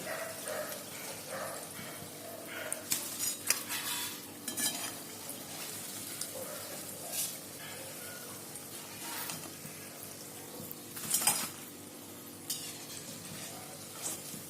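Dahi vada frying in oil over a low flame, a steady soft sizzle running throughout with occasional stirring and utensil clinks, and brief louder bursts near the start and around the eleventh second.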